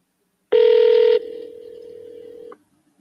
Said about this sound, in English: We're going to double dial him just because